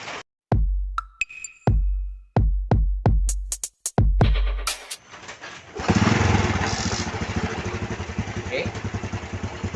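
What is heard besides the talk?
Honda Revo Absolut motorcycle engine running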